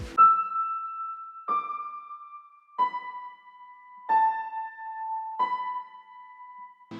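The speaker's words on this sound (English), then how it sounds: "I introduced a very small piano melody that sounds like this." A small, sparse piano melody in a slow beat: five soft single notes, each left ringing and decaying before the next, stepping gently downward with nothing else playing.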